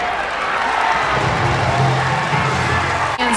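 Softball stadium crowd at a Women's College World Series game cheers loudly after a double play, a steady wash of voices and applause lasting a few seconds before cutting off.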